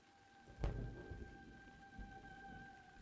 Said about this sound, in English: The storm is apparently starting to clear up a little bit. It's getting still rainy, but less noisy and lightningy outside.